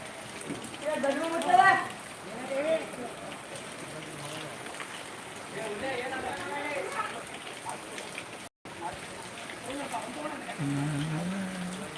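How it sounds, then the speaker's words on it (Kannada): Steady rain falls the day after Diwali, a constant soft patter of drops beneath intermittent talk, with a brief dropout partway through. "ಆದರೆ ಮಳೆ ಇದು ಮಂಜಲ್ಲ ಚೆನ್ನಾಗೇ ಬರ್ತಾ ಇದೆ"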